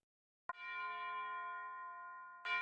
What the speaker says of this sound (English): The church bell strikes once.